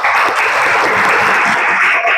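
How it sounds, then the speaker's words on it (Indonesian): A room full of students applauds a student group during a classroom presentation session, dense steady clapping filling the whole moment without talk. "Sekarang kita berikan tepuk tangan untuk kelompok"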